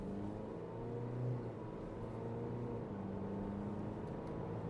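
A JAC T9 2.0-litre diesel 4x4 pickup truck accelerating in sports mode, heard from inside the cab as a steady, fairly loud engine drone with a rising hum, with no talk over it.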